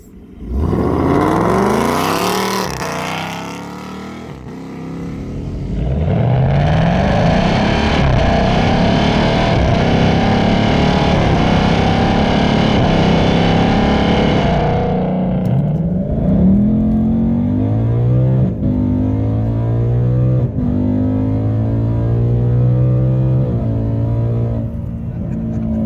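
A 2019 Mustang GT accelerates hard with a loud exhaust roar climbing through the gears, heard close from inside the car, then eases into a lower steady drone.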